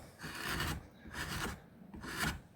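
A draw knife roughs out a soft olive wood bowl in three long rasping strokes, each a close, scraping pull separated by brief pauses.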